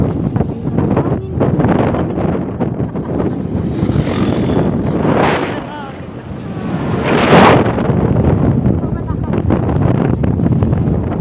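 Strong wind buffets the microphone in loud, roaring gusts that swell and ease, with rushing water noise beneath.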